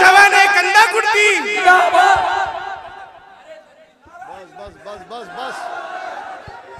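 A large religious gathering chanting a takbir response in unison, loud, drawn-out massed voices that swell and then fade, followed by a second, quieter wave of rhythmic chanting.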